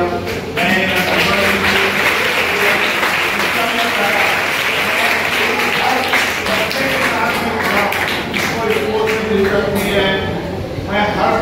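An audience at a school sports and fitness lecture claps steadily and warmly for the full stretch, a dense, even wash of many hands with a faint voice now and then beneath it.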